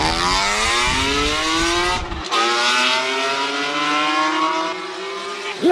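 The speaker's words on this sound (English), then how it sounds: "Loud and proud, E46 up the hill." A BMW E46 M3 race car accelerates up the hill at a Cape Town hillclimb, its engine howling through rising revs, a brief cut at a gear change, then climbing again, loud and close.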